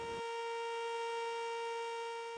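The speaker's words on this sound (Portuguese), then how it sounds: "Essa sirene que tocou por tantos anos para avisar os horários de trabalho" A loud, steady railway works siren signaling work hours holds one unwavering electronic tone throughout, piercing and continuous with no pauses.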